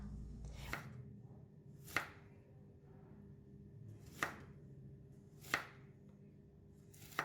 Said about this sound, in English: cut the long beans together into thin slices